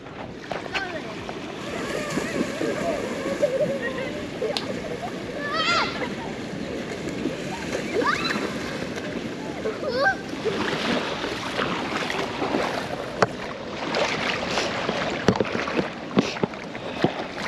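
Water splashes as someone swims in the sea off Samoa, with choppy slaps and wash mixed with wind buffeting and surf. People talk excitedly throughout, and the splashes grow busier toward the end.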